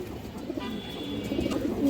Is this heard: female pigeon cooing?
yes